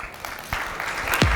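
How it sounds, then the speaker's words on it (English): A tech talk audience claps briefly and softly at moderate distance, with a low thump near the end. "So with a big round of applause,"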